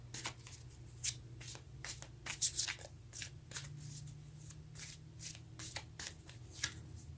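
Tarot cards are shuffled and drawn by hand in a quiet room: soft, repeated riffling and flicking snaps in an irregular rhythm over a faint low hum, with no talking.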